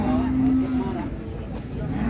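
A cow moos once, a short low call near the start, amid the steady crowd and vehicle noise of the Jetis cattle market in Ponorogo, East Java.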